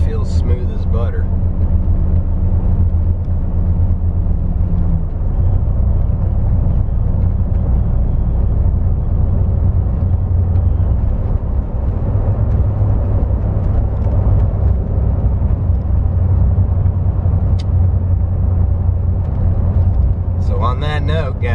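Toyota Tacoma truck cruising at about 40 mph on new tires, with steady road and engine rumble and tire noise filling the low end throughout, loud and continuous, with brief talk near the start and end.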